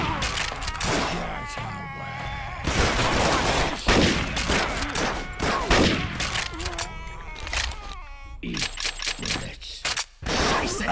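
Gunfire in the video game NecroVisioN: Lost Company, rapid loud shots and bursts packed across the scene, mixed with groans, in-game voices and someone talking.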